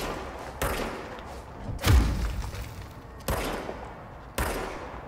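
Gunfire in the video game Control comes as a handful of sharp, loud shots spaced irregularly, with one heavier booming impact among them and fading tails after each, and no talking.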